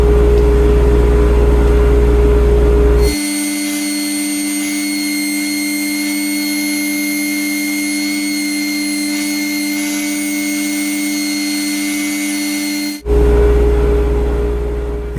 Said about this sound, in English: I'm going to use a flush trim bit on the router to trace the shape exactly